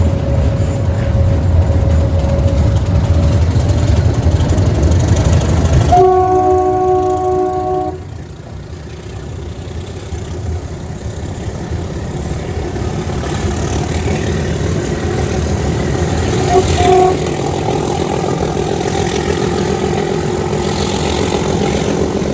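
A diesel locomotive on a meter gauge line rumbles steadily, then sounds a loud sustained horn with layered tones for a couple of seconds, after which the engine and rolling wagons carry on with a second, shorter horn blast later.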